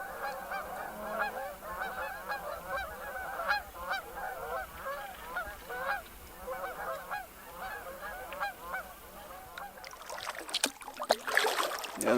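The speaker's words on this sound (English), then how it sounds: "there must have been 200 geese, Canadian geese, that just flew off" A large flock of some two hundred Canada geese in a delta marsh honks in a dense, overlapping chorus at middle distance, then the calls give way to louder rushing and splashing as the birds lift off the water.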